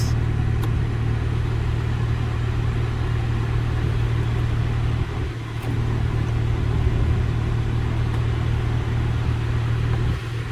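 Blower motor of a 2002 Acura MDX running with the air conditioning on, a steady low hum and whoosh of airflow inside the cabin, continuous and fairly faint, with no talking.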